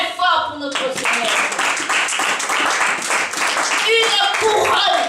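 A congregation at a church service claps and acclaims the Lord, loud dense applause and cheering filling the room, with voices calling out over the clapping throughout.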